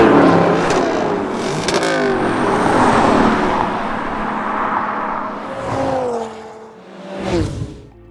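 A Lexus LC500 engine revs loudly in several rising and falling surges, its throaty note sweeping up and dropping back between bursts, close and without speech.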